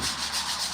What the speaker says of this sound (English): I'll start with the hand sanding.